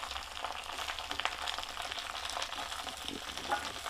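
Curry leaves fry for karivepaku pickle in a pan with a steady, dense crackling sizzle, close and fairly loud, mixed with faint stirring scrapes and no talking.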